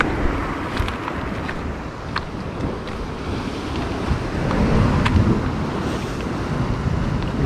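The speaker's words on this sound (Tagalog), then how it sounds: "Masyadong maalon dito eh." Rough sea waves and strong wind rush continuously along the coast at Itbayat, Batanes, with dense surf noise and gusts buffeting the microphone.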